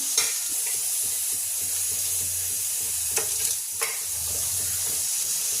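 Grated coconut frying in hot oil with onion and masala for a Pandharpur-style bazaar amti, a constant close hissing sizzle with a few stirring scrapes and clicks and a faint low hum beneath.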